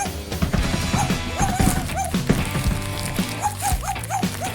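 Dogs bark and yip in short bursts over busy background music and clatter, a few rising whimper-like calls repeating across the stretch at moderate loudness.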